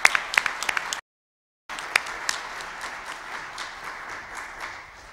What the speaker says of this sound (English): So if we can just give them a round of applause